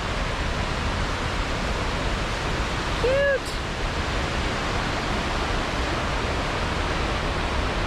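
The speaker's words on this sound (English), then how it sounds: "Cute little wet weather falls here at Burgess Falls." Rushing water of a small wet-weather waterfall at Burgess Falls, Tennessee, fed by road runoff and pouring under a little footbridge into a flooded river; a steady broadband roar fills the whole span, with a brief spoken word and a short tonal chirp partway through.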